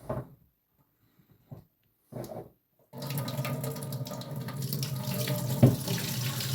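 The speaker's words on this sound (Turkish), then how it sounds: "Zeytinlerimizi üçüncü defa süzüyoruz" Cracked green olives are drained in a kitchen sink: a few soft knocks and shuffles give way to a steady, close rush of running water that continues to the end.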